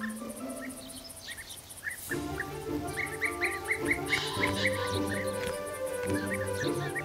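Bee-eaters, insect-hunting birds, give repeated short chirping calls in a breeding area in Germany, scattered and fairly close, over a sustained musical background.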